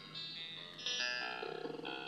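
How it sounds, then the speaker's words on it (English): Generative music built in Mixtikl plays with a distortion effect added to a cell, giving sustained, buzzing synth tones that shift pitch and pulse slightly, with no talking. "Okay, I'm going to add some special effects to that cell."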